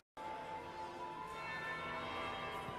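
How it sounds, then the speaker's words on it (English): A bell tolls in the Dragon Age Inquisition video game, a faint, sustained metallic ring with a long, shimmering decay over a soft ambient backdrop, with no talking. "That would be the second bell."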